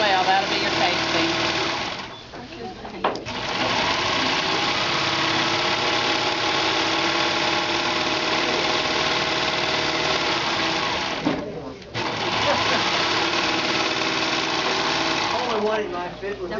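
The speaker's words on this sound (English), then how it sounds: "you're going to serge around the top as well" A serger running around the top edge of skirt fabric, a close, loud, fast mechanical whir in long bursts separated by two short pauses.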